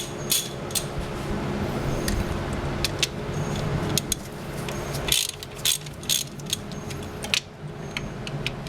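A ratchet undoing the ignition coil bolts on a 1991 Mazda Miata valve cover, rapid clicking pawl bursts near the mic over a steady background hum, then sharper separate clicks and clanks of metal parts.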